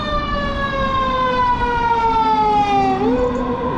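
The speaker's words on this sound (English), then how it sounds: "Fire truck." A fire truck siren wails loudly and close, holding a long sustained tone that slowly sags in pitch before jumping back up as the engine passes by on the road.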